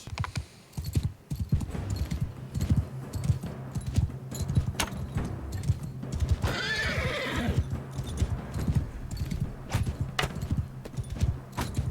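In the video game Mount & Blade II: Bannerlord, many hooves pound rapidly in a dense galloping rhythm during a cavalry charge while a horse lets out a loud whinny midway through.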